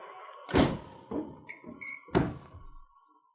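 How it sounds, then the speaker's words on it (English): A few heavy wooden thuds and knocks, like a door being shut and handled, with a faint muffled voice between them. "Shut the door. We lock them in."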